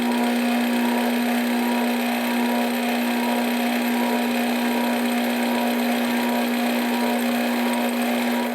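A lathe cuts a thread on an airsoft airgun adapter, a loud, steady machine drone with a strong constant hum that runs without a break, with no talking.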